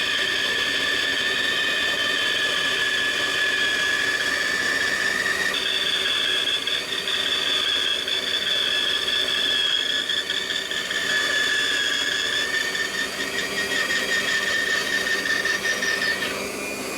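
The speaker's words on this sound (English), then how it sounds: "I'm going to do that on the bandsaw" A bandsaw cutting a slot in wood for a wine bottle and glass holder, a loud steady whine with high tonal ringing that holds throughout at close range.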